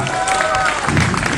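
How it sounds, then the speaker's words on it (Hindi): Applause and cheering from an audience at a Netflix press event for the series Maamla Legal Hai season 2, a dense steady clapping wash with a crowd murmur and a voice speaking over it. "एक जोरदार तालियां इन सभी के"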